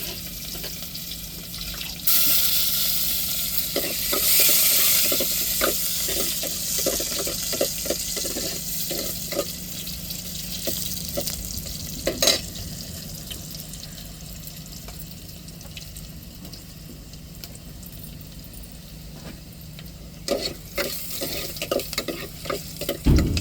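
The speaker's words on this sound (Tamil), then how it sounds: "தாளிப்புக்கு வெங்காயம் சேர்த்துக்கிறோங்க" Onions frying in hot tempering oil with mustard seeds for milk rasam, giving a steady sizzle with scattered crackles and occasional stirring scrapes, close by and continuous throughout.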